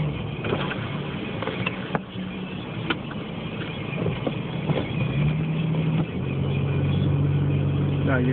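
A Nissan Xterra drives through blizzard snow: a steady, close engine rumble and road noise run throughout, and a low droning tone rises near the end. Low voices talk faintly underneath.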